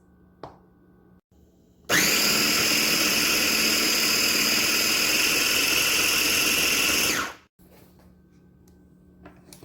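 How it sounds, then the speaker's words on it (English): A food processor blends keto chocolate avocado pudding in one loud, steady whirring run of about five and a half seconds, starting and stopping abruptly between quieter stretches of room sound. "now I've added all those ingredients into the food processor, and then we're going to go ahead and start mixing this"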